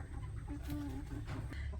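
A broody hen sitting on her eggs gives low, soft clucks and murmurs close by, a steady faint grumbling that runs through the whole moment without any talk.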